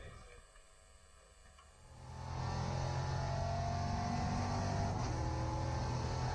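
Onboard a Euro NASCAR race car lapping the Valencia circuit, the V8 engine droning quietly at first, then rising into a loud, sustained roar under acceleration that holds steady to the end.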